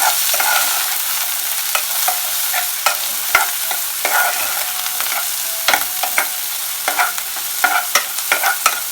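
Onions frying in hot oil for a chicken lasagna, with a steady bright sizzle broken by frequent clicks and scrapes of a spoon stirring the pan, close and fairly loud, no voices.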